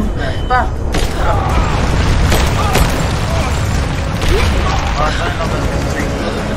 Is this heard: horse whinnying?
no